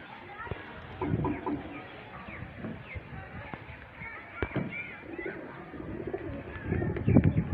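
Teddy pigeons coo softly in short, scattered bursts against a quiet background, with a few faint clucks and occasional soft voices.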